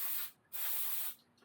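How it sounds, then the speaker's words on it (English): Carb cleaner sprayed from an aerosol can onto an old Giant Stance bike left unused for five years, two bright hissing bursts separated by a brief pause, close and fairly quiet with no talk. "it's carb spray, but it's the same thing"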